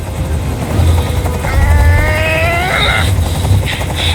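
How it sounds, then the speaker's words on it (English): Helicopter rotor noise in the video game Detroit: Become Human, a steady low thudding drone that runs throughout, with a brief rising whine partway through and some faint higher tones over the top. "I can't stand that noise anymore. Tell that helicopter to get out of here."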